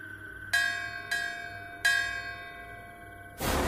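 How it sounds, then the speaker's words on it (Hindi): Temple bells sound in the distance: three separate metallic strikes, each with a bright ring that slowly fades, followed by a sudden burst of broadband noise at the end. "लेकिन तभी दूर से मंदिर की घंटियां बजने लगी।"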